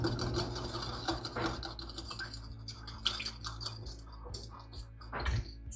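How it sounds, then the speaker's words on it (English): Eggs being whisked together in a bowl with a whisk, a steady run of quick, clicking and scraping strokes close up, with no talking. "I'm going to take a whisk and just kind of whisk all that together"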